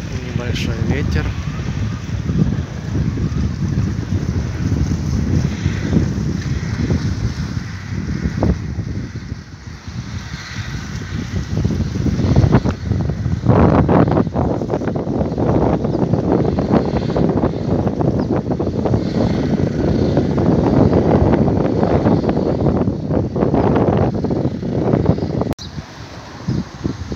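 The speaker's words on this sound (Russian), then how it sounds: "Ветер." Steady wind buffeting across the Gzira waterfront promenade in Malta, a broad continuous rush and microphone rumble that swells and dips slightly, with faint sounds of water and harbour boats underneath.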